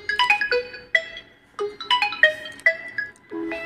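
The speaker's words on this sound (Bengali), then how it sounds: "দেখেন আমার মোবাইলটি রিং হচ্ছে।" A mobile phone rings loudly at close range after Google Find My Device triggers its play-sound alert, a bright melodic ringtone repeating its short tonal phrases several times with brief gaps between them.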